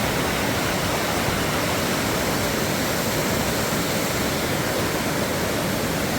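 Water rushes along a stream with a dense, unbroken roar that holds steady and loud throughout, with no voices.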